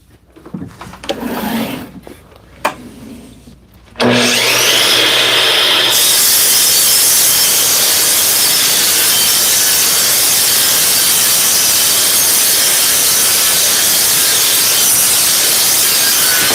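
A miter saw fitted with an 80-tooth blade cuts rough ash: after a few seconds of quiet handling knocks, the saw spins up loudly into a sustained, bright, high-pitched whine and cutting hiss that continues for over ten seconds.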